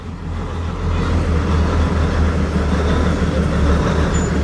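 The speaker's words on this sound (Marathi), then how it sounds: "हे टॉय ट्रेन आता इथे प्लॅटफॉर्मला लागत आहे" The Matheran hill station toy train, hauled by a diesel locomotive, rumbles into the platform with a steady low engine drone and rolling rail noise, fairly close and constant throughout.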